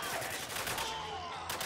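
Continuous gunfire in the Spec Ops: The Line video game, a dense burst of shots filling the whole moment with no pauses and little else audible.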